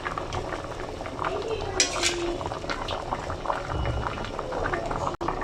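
A pot of bhuna khichuri with potatoes and chicken bubbles at a steady boil, a continuous soft burbling close by, with a brief clink of utensils and a voice talking faintly over it.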